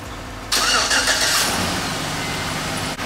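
A 5.3 liter gasoline engine in a Chevrolet Tahoe cranks and catches after a brief quiet moment, then settles into a steady, fairly loud idle nearby.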